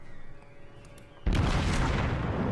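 Shell hitting a battleship's citadel in the naval video game World of Warships: after a quieter rumbling lead-in, a sudden loud booming blast erupts and rolls on as a dense, heavy roar, with no talk over it.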